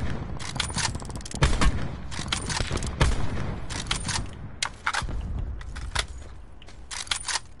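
Gunfire in Call of Duty Blackout comes in repeated short bursts and single cracks throughout, mid-distance and fairly loud over a constant busy battlefield background.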